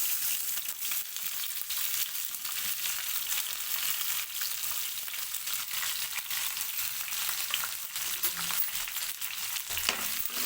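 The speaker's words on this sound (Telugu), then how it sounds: "ఇప్పుడు దీన్ని అయితే కలుపుకుంటూ గోల్డెన్ కలర్ వచ్చే వరకు అయితే ఉల్లిగడ్డను వేగనివ్వాలి" Chopped onions and green chillies with curry leaves fry in hot oil, a dense continuous sizzle and crackle filling the whole stretch, close and fairly loud, with faint stirring scrapes and no talking.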